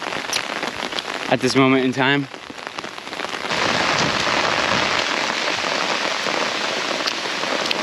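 Steady rain hisses and patters hard on a hiking trail during a thru-hike, loud and close throughout; a voice speaks briefly over it near the start before the downpour grows denser and continues alone.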